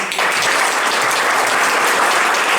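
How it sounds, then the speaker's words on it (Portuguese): Audience applause fills a Rotary club meeting in Niterói, a steady dense patter of many hands clapping loudly and close for a couple of seconds, with no talk over it. "Uma salva de palmas para o João Vinícius."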